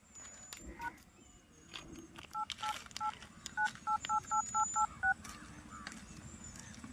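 Phone keypad tones as a password is typed, a quick run of short beeps in a rapid irregular rhythm, faint and close, with a little background noise.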